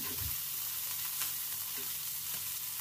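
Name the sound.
chicken skin sate taichan frying and sizzling in a pan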